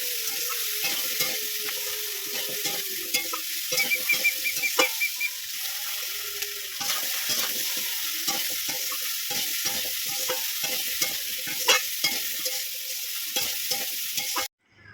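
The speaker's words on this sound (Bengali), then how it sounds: "আর এখানে মাছের ডিম দিয়ে আর এই যে রাঙা আলু আর কুমড়ো আলু আর অল্প পুঁই শাকের ডাঁটা দিয়ে খুব সুন্দর করে নেড়ে চেড়ে" Fish roe with sweet potato, pumpkin and a little Malabar spinach stem is stirred in a sizzling pan, with repeated scraping strokes over a continuous frying hiss; no speech.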